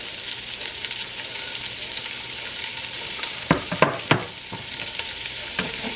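About two cups each of chopped onion and celery frying in fat and oil for a tomato clam chowder, a quiet steady sizzle broken by a few sharp spoon scrapes against the pot.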